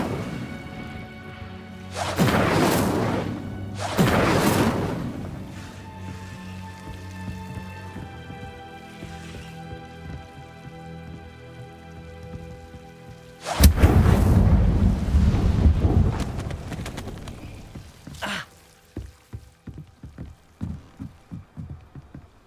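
The Incendio fire spell being cast in Hogwarts Legacy, heard as loud whooshing flame bursts, two close together near the start and a bigger one later, followed by crackling and popping.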